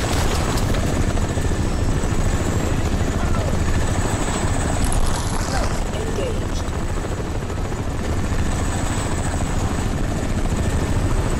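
A helicopter's rotor in the video game Crysis chops loudly and steadily the whole time, close by, with a voice talking over it.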